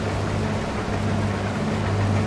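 A tractor drives across a field in Landwirtschafts Simulator 23 on Switch, its engine giving a steady, loud, low droning hum that holds without change throughout.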